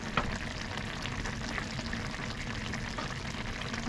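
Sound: pot boiling on stove

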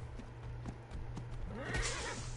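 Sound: horse hooves while riding in Ark: Survival Evolved video game

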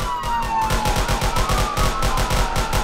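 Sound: gunshots in the Roblox video game ERLC

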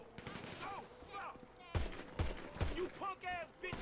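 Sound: gunfire in the video game GTA 5

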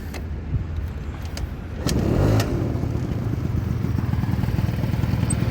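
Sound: scooter engine kick-starting

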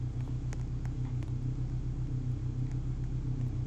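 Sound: car engine in video game Roblox Brookhaven

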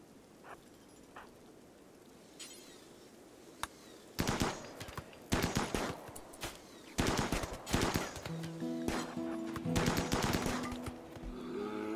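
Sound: gunfire shooting at a bear in the video game RimWorld

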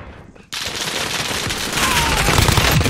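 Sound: shotgun fire in video game Warzone

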